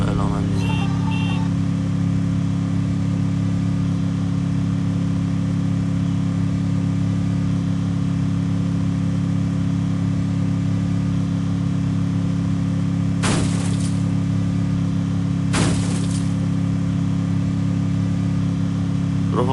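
A car drives in a video game with a constant, steady engine drone at even pitch throughout, interrupted twice by brief sharp bursts of noise, while someone talks over it.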